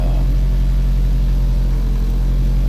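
A 1997 Acura Integra engine with an idle problem runs loud and close, holding a steady drone with a slight rise in speed right at the start.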